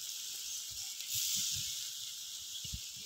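Cumin paste dropped into hot oil for a Bengali prawn dish, giving a steady close, bright sizzling hiss throughout, swelling briefly about a third of the way in, with faint low clatter beneath.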